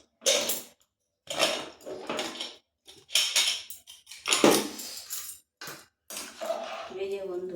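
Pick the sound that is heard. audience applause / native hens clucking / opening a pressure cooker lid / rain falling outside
opening a pressure cooker lid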